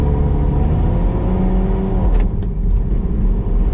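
Lotus Exige Sport 380 sports car engine holding a steady, loud drone from inside the cabin, with a brief dip and change in tone around a gear shift midway through.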